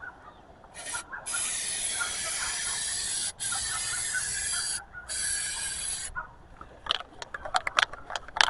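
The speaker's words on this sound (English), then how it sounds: "Now I'm going to go over with this Flex Seal and see how it does." A Flex Seal spray can sprays coating onto a fountain in long, loud, steady hissing bursts with short pauses between them, then a few brief clicks and rustles at the end.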